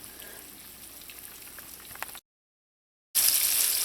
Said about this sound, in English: allow the fish to fry until they're nice and golden brown and they've cooked all the way through